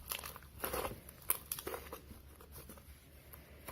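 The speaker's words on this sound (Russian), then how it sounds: "Он очень хрустит." Crunchy homemade slime being kneaded by hand, giving soft scattered crackles and small crunchy pops at close range, faint and irregular.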